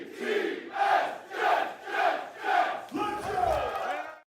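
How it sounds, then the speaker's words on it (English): A packed crowd at an NFL draft event at Clinton Hall in New York City roars and chants in rhythmic swells, about five loud surges a second apart, followed by a burst of cheering. "this crowd tonight's been electric"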